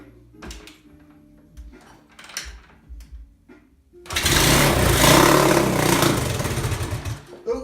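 A 1981 Honda XL125s motorcycle engine catches after a few faint cranking clatters and breaks into a loud, steady, rough idle that runs close by until the end.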